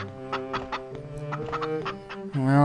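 Chickens cluck in short repeated bursts in the Rule of Rose video game, with a louder, sustained squawk rising near the end.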